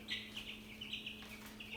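A chicken gives soft, repeated clucks and chirpy calls while being handled, fairly faint over a steady background hum.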